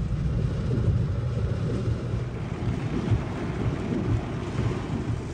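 Thunder rumbling during a powerful thunderstorm on a Florida beach at Bradenton, a loud, sustained low roar mixed with wind buffeting the microphone and rain, no talking.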